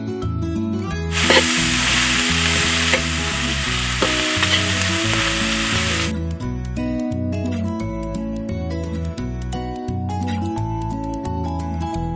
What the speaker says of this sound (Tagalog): Lagay natin yung ating sibuyas.